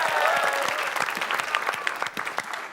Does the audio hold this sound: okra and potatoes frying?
no